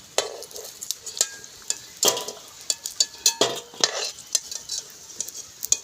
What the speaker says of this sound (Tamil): சத்தத்தை பார்த்தீங்களோ இங்கே கலகலண்டு இருக்கு பாருங்கோ